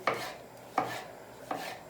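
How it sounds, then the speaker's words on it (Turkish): Three crisp knife chops through tomatoes on a cutting board, evenly spaced about three-quarters of a second apart, close and clear with no talking. "İnce ince domatesleri doğruyoruz."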